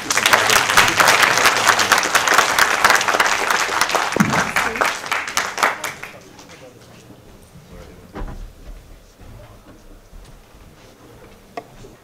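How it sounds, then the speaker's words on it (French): A crowd claps loudly and steadily in a hall as a woman named Leïla is called up to a stage at a political gathering, then the applause tapers off about halfway through into quiet room noise with a few scattered claps. "Applaudissez Leïla, s'il vous plaît."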